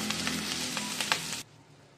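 Potatoes fry in oil with a bright, crackling sizzle close by. The sound cuts off abruptly after about a second and a half, leaving near quiet.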